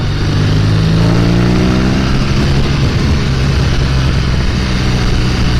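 A BMW R nineT Racer motorcycle engine drones loudly and steadily while riding, its low rumbling tone shifting slightly in pitch as speed changes, with wind noise over it and no talk.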